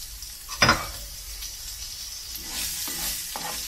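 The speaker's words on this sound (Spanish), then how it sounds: "Seguimos removiendo." Shredded beef is stirred in a frying pan with olive oil, giving a soft ongoing sizzle with a sharp scrape early on and a few lighter stirring strokes later.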